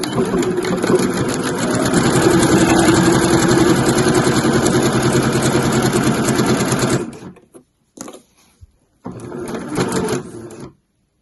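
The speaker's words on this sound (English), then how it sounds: "So I'll line up my needle so that it's going down into the crease of that binding" Sewing machine stitching binding onto a mesh laundry bag, a fast, steady mechanical whir with rapid needle rhythm, close and loud, then halting into short stop-start bursts.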